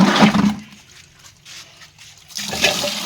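Water from a newly repaired tap runs in two bursts, a loud hissing gush at the start and again near the end, with a quieter trickle between.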